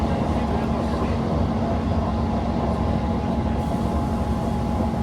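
A steady, loud rumble of a train in motion near Dundee, Scotland, heard from inside as a continuous low drone with rattling.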